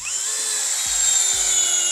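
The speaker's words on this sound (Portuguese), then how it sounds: "vou deixar o torque no máximo. Eita, errei aqui. Ah, tá girando ao contrário." A FortG brushless cordless drill spins at high speed with its torque turned to maximum, giving a steady, close, high-pitched motor whine that holds throughout, with a few low thumps underneath.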